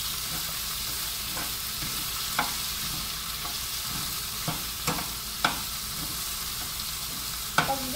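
Garlic butter clam curry stirred in a pan, a constant bright sizzle broken by several sharp scraping clicks of the spoon against the pan.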